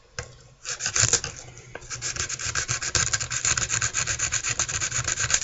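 A straight razor being sanded with coarse 60 grit sandpaper, starting with a few scrapes and building into a loud, fast, continuous back-and-forth rasping, close up with no talking.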